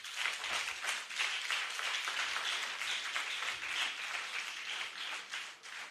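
Audience applause fills a conference hall at a health professionals' annual general meeting and scientific conference, a dense, sustained clapping from many hands that holds steady throughout and tails off slightly at the end.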